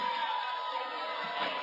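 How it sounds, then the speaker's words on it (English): Football fans at a Lanphier Lions game cheering from the stands, a broad steady crowd roar heard from a distance. "Those who have stayed around cheer the Lions on."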